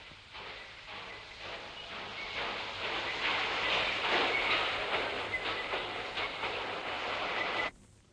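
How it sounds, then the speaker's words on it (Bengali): A train pulls away from a station, a continuous rolling rumble with clickety-clack rhythm that swells midway and cuts off abruptly near the end; no talking over it. "মা ট্রেন চলে গেল যে"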